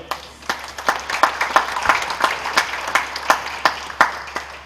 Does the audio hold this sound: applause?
yes